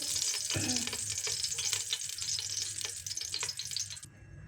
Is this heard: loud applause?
no